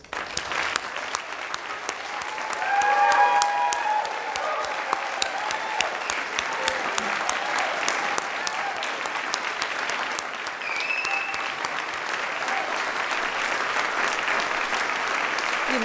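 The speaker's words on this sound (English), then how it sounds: "kick off this celebration with a big round of applause for you" A graduation convocation audience gives the graduate students a big round of applause, sustained dense clapping from a large crowd filling the hall, with a few faint voices underneath.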